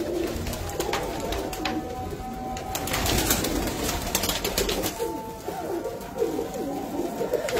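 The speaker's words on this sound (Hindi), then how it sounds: "ये बटेरा कबूतर है सामने" Batera pigeons cooing inside a rooftop loft full of birds, a steady chorus of overlapping low coos throughout, moderately close with some background clatter.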